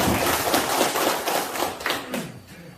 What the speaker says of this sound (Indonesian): Nah, tepuk tanganlah untuk kita segalanya ini kan.